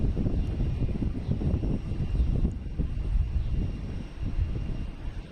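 A Japan Airlines jet airliner departing Boston Logan Airport sends a steady, loud low-pitched roar of engines rumbling without pause and drifting slightly in strength, with no voices over it.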